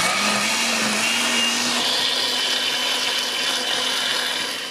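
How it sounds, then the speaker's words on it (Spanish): Kitchen blender running at full speed, blending ancho and guajillo chiles with broth for red enchilada sauce, a loud steady whirring grind with a pitch that shifts slightly, then fading near the end. "Vamos a ponerlos a la licuadora"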